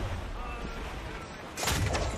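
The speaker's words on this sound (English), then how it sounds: "Fire what cannons you will," Over a steady background hum, a ship's cannon in the video game Assassin's Creed 4: Black Flag booms loudly, its blast lingering for about a second.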